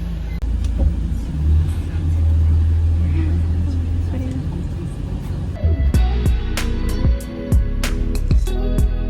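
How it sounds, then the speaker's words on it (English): A car interior after arrival in Singapore, with a steady low engine and road rumble, a change midway, then sharp clicks and knocks over the drone. "In the car now."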